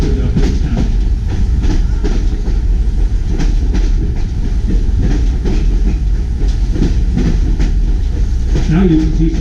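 New Hope Ivyland Railroad passenger train rolling along with a steady loud rumble and rail clatter heard from on board, continuous throughout.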